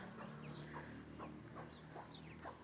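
Birds cluck and chirp softly and a little distant, short repeated calls over a steady low background hum, with no talk.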